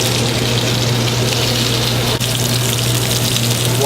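Scallops sear in hot oil in a pan in a restaurant kitchen, giving a dense, unbroken sizzle with a constant low hum beneath it.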